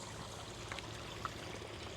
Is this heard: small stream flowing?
yes